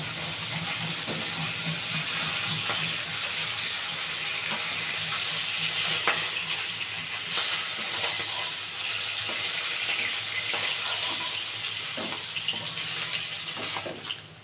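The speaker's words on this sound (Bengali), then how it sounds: "মাছগুলো এবার ভাজা হয়ে গেছে, এবার তুলে নেবো একটা একটা করে।" Pomfret fish frying in hot oil in a pan produce a continuous, close sizzle and crackle, with occasional clinks and scrapes as the pieces are handled, and no one talking.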